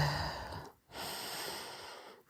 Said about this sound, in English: Take a deep breath in through your nose